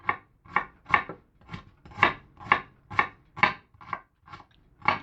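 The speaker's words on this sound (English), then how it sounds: "We want little minced onion." A knife mincing onion on a wooden cutting board, about a dozen crisp, evenly spaced chops in a steady rhythm, close and clear with no talking.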